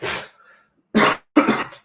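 Three short coughs from a person close by, one harsh burst followed by two more after a brief pause, with no talking.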